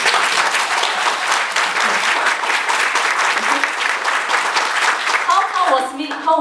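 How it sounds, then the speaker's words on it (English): Loud, close applause from an audience during a presentation, a dense burst of clapping that carries through and tapers off as a voice starts up at the end. "You all need to clap louder, you know."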